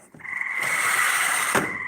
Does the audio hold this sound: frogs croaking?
yes